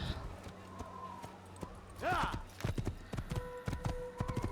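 Horse hooves clip-clop in Assassin's Creed on PS3, a series of close, irregular thuds with a neigh-like burst partway through, mixed with other game sounds and a voice talking.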